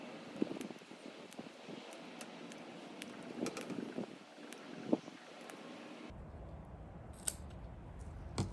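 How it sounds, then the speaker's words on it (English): Scissors cut through the tough cornea of a dissected cow eye, making faint, close, repeated small snips among quiet rustling, with a steady low background hum toward the end. "if you make a cut in the cornea, which is pretty tough tissue as well"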